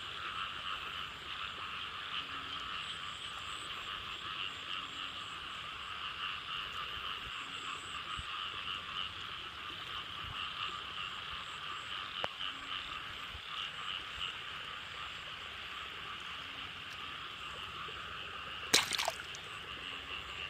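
Frogs croak steadily in a rice field behind a house, a dense, even chorus holding for the full stretch with no voices over it.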